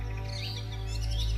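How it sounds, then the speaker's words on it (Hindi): Birds chirp and tweet in a forest, their calls scattered and fairly faint over a steady low hum, with no voices present. "पक्षियों की मधुर चहचहाहट पूरे वातावरण में गूंज रही थी"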